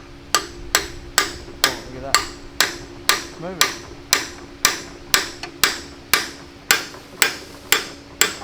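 A hammer strikes a pin on a StuG III G assault gun under restoration, sounding as loud, evenly spaced metallic blows, about two per second and close by, each ringing briefly.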